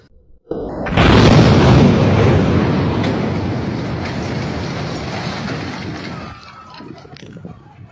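A suicide bomb blast inside a mosque, caught on CCTV: a sudden loud boom erupts, then a long, dense roar of rumbling debris that slowly fades over several seconds into a quieter hiss.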